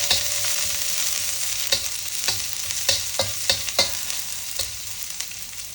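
Onions sautéing in a pan with mustard seeds, a steady close sizzle with a series of sharp pops and stirring scrapes, loud and continuous with no voices.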